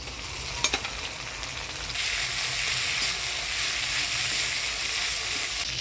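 Ginger-cumin-green chili paste and chopped tomato hit hot oil spiced with dried red chili and whole cumin, giving a steady sizzle that swells to a louder, fuller hiss partway through.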